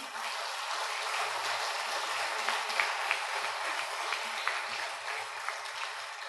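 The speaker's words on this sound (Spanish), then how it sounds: "¿Qué tal si le damos un fuerte aplauso a Dios?" A church congregation applauds, a dense even wash of clapping held steadily for several seconds with low murmuring underneath.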